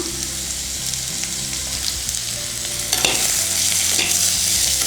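Vegetables sauté with turmeric in a hot pan for bitter gourd sambar, a loud continuous sizzle and fry with scraping stirs throughout, no voices.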